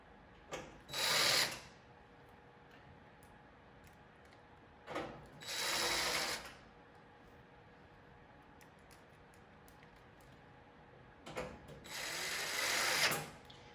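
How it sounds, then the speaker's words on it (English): Screws are driven in with a power drill while a 12U rack is assembled: three separate whirring bursts, each a second or two long, close and fairly quiet, with pauses between. "Yep, put all these screws in."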